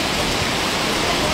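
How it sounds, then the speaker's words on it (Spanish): Heavy rain flooding a street in Ecatepec, a steady, loud, even hiss of downpour and running water with no breaks. "Lamentablemente nos inundamos aquí con esta lluvia fuerte que llegó."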